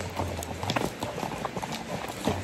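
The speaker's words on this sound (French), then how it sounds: "Du bruit de sabots." Horse hooves clip-clop close by on a mountain trail in the Alps during a horseback trip, a string of uneven, distinct hoof strikes over faint outdoor background.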